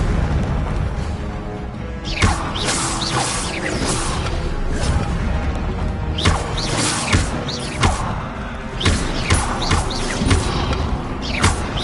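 Spells, including the fire spell Incendio, are cast in the video game Hogwarts Legacy: repeated whooshing bursts and booming impacts arrive every second or so over a constant rumbling ambient bed.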